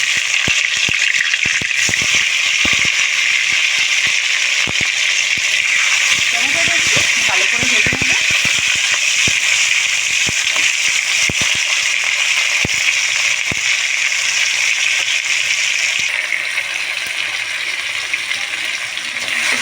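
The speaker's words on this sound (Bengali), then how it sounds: "টমেটোটা আমার ভাজা হয়ে যাচ্ছে দেখছি" Chopped tomatoes sizzle and hiss continuously in hot oil with a little panch phoron, a close, steady frying crackle lasting throughout while a cook talks over it.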